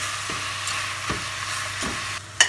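Minced meat frying in a pan for lasagna, with a steady hiss of sizzling under repeated stirring strokes, a scrape or two recurring every second or so, close and fairly loud.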